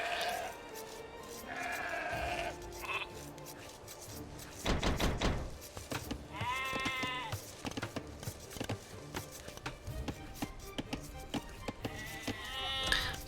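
Sheep in the video game Age of Empires II bleat in short, clear bursts spread across the clip, mixed with game clicks and effects.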